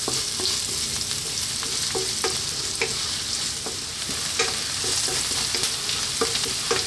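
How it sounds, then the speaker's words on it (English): Onions frying in a pan over medium heat give a steady close sizzle, broken by repeated scraping clicks of stirring at irregular intervals. "I'm going to get now in our onion. Very simply, medium heat, about 4 minutes."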